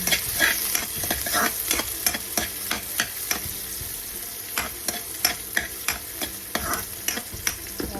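Onions fry in a pan while being stirred, a loud continuous sizzle punctuated by quick, rhythmic spatula scrapes close by.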